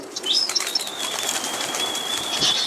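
Pigeons burst into flight from a loft, a flurry of flapping wings close by, with faint chirps and a thin high whistle over a steady background.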